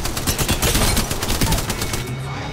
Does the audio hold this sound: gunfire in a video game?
yes